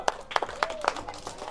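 A crowd at a street gathering claps in a few sharp, scattered bursts, close and fairly loud, with a voice faintly present.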